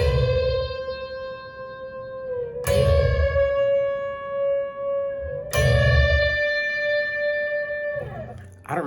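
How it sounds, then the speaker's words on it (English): An electric guitar plays unison bends from the pre-chorus of a song. Two bright bent-note figures ring out with sustain over a low backing, followed by a brief scrape at the end. "Now the pre-chorus is a series of unison bends"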